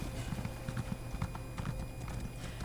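A horse's hooves clip-clop at a steady walking rhythm in The Elder Scrolls Online, close and continuous over a low ambient background.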